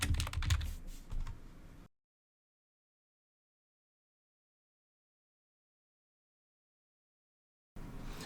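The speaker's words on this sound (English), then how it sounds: "type floor plan in the search box" Fingers tap out a short burst of quick keystrokes on a computer keyboard, entering text into a search box in Visio, then silence for several seconds before a second burst of typing at the end.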